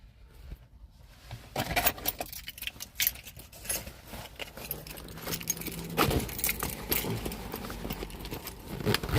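Keys jangle and clink repeatedly as they are picked up and shuffled about, close and fairly loud, with a few scattered knocks and handling noises around them and no talking.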